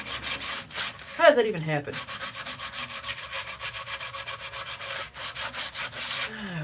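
Wood being hand sanded by someone wearing gloves, a steady run of rhythmic rasping strokes, close and fairly loud, with a brief remark spoken early on.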